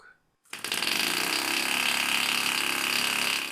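A homemade compressed-air engine, run during thrust tests, bursts into a loud, steady hissing rattle after a brief quiet start and keeps churning at an even level to the end.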